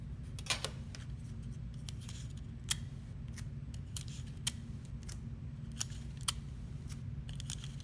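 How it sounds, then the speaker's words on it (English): Scissors cut paper for a perspective drawing: a series of crisp, close snips at irregular intervals, each short and sharp, over a quiet low background hum. "take a minute to cut your paper"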